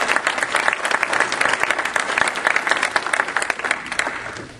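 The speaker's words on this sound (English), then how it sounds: "I'd just like to give them a round of applause." Sustained audience applause at a panel discussion during an education summit in Kansas, dense clapping from a full room throughout, loud and steady before tapering slightly at the end.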